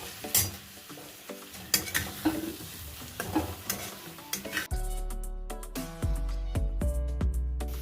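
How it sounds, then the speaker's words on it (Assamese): Potatoes fry with tomatoes in a pan of oil for an egg curry, a steady close sizzle broken by repeated scraping stirs and clinks of a utensil against the pan. "মানে বিলাহীখিনি অলপ অলপ তেল এৰালৈকে মই এতিয়া ভাজি ল'ম আলুখিনি।"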